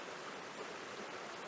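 A small stream with very little water trickles over rocks on Dartmoor, giving a steady, even rush of flowing water that stays at one level throughout, with no voices.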